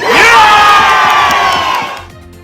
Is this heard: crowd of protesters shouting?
yes